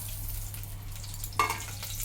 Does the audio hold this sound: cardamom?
yes